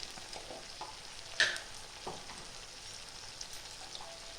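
Turmeric, red chili powder and cumin powder fry as a masala for a stingray curry in a pan, giving a soft, steady sizzle with one sharp utensil clink partway through and a fainter scrape later; no one speaks.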